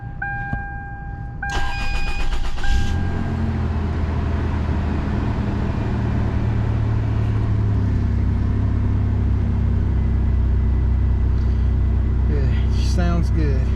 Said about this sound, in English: we're about to crank it for the first time